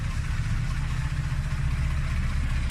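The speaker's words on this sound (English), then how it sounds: "I have the engine idling" A 1969 Mercedes Unimog truck engine idling cold without choke, a steady low rumbling drone that holds even and continuous throughout, close by, with no voices.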